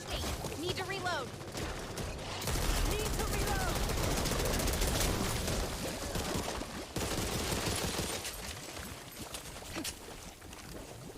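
Sustained rapid minigun fire in the shooter game No Hope, a dense, loud continuous rattle that breaks off briefly and then resumes, with faint game noises underneath.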